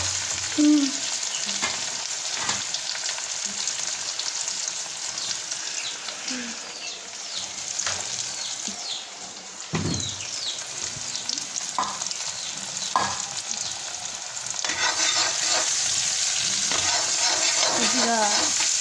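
Fried rice frying and being stirred in a hot pan: a constant close sizzle with scattered scraping and clinking stir strokes throughout.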